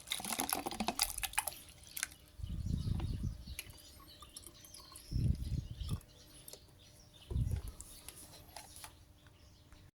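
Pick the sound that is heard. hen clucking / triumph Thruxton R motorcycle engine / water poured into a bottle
water poured into a bottle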